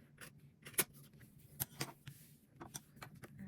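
Scissors cut across a sheet of leather for a handmade journal, giving a quiet series of sharp snips and crisp slicing scrapes at an irregular pace, close and soft.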